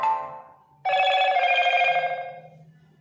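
Default Moto notification tone on a Motorola g62 5G phone: a short chime fading out, then a brighter, longer multi-note ringing tone that swells and decays over about two seconds, close and clear with no talking.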